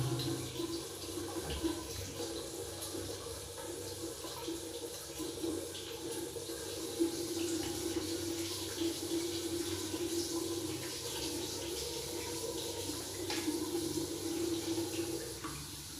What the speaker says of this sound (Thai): ตอนนี้เปิดน้ำแล้วนะครับ เราจะลองดูครับว่ามันจะรั่วไหม